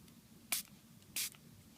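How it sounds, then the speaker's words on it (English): Two short, bright squirts from a fine-mist spray bottle of distilled water, spaced about half a second apart over quiet room tone. "This has a fine spray on it"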